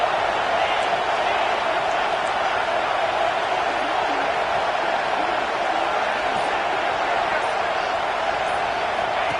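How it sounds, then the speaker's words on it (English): Stadium crowd roaring at a Penn State football game as the defense holds in the red zone, a steady, dense wall of cheering that stays loud and constant throughout. "the crowd coming to life here, trying to help this defense down in the red zone"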